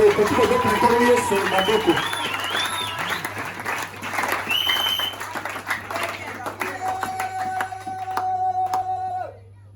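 A church congregation applauds the Lord, a dense burst of clapping and crowd noise that tapers off, with a voice speaking over it and sustained music continuing.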